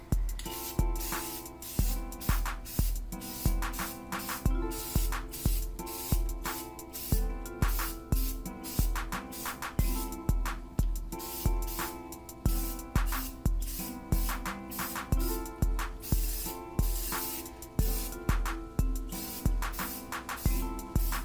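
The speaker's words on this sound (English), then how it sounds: "let's go ahead and shake up the can and apply our second coat" Aerosol can of gloss black paint spraying a second coat onto a car wheel during a curb rash repair: repeated short hissing bursts in a steady rhythm over background music, close and fairly loud.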